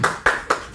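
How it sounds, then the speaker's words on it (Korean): Applause greets a newly nominated South Chungcheong governor candidate at a Reform Party nomination ceremony, heard as three sharp, close hand claps in quick succession. "뜨거운 박수 부탁드리겠습니다."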